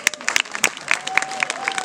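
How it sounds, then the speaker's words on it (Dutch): A crowd applauds at the official opening of a new library branch in Denderhoutem as two children hand over the last book, close sharp claps over a murmuring group with a faint voice beneath. "Applaus!"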